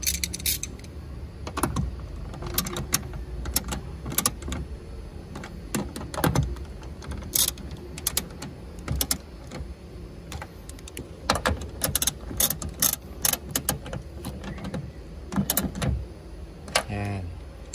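Metal clicks and rattles from tightening the three tail light nuts on a third-generation Toyota Vios, a run of sharp close taps and jangles scattered irregularly at low level with quiet pauses between them.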